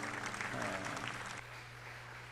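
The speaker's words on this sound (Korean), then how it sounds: "박수로 함께 하나님께 영광 돌리겠습니다" A church congregation applauds during a Sunday worship service at Suwon Central Church, marking the church's 35th anniversary; a steady, moderately quiet wash of clapping from a large group fills the room, thinning slightly partway through over a low steady hum.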